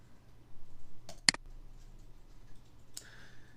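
A few sharp computer mouse clicks while working in Mastercam, two quick ones close together, then a single click, over quiet room hum.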